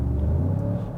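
Genesis G80 with its 4-cylinder gasoline engine and the engine sound generator on high gives a steady, loud, close low rumble with a faint rising tone inside the cabin.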